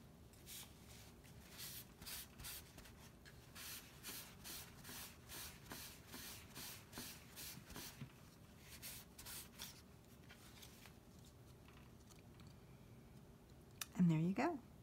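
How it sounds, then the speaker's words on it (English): Quiet, repeated rubbing strokes of a cloth wiping excess paint off an art journal page, rhythmic and close, fading out before a brief voice near the end. "you can wipe away the excess"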